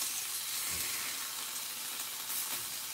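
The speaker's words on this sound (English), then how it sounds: "I'll cut a little more beurre, which is French for butter. Put that on the pan. Flip my steak." A steak sizzles and fries steadily in butter in a pan, a dense continuous crackle with a couple of soft thuds as the meat is moved.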